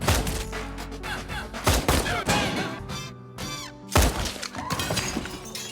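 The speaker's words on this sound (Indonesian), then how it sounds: "Tiba-tiba datang beberapa orang menembaki Sap dan Maya." Bursts of gunfire and shattering impacts crash through a dense, loud action soundtrack from the film Shaft (2019), with sharp cracks and debris over rumbling music and effects.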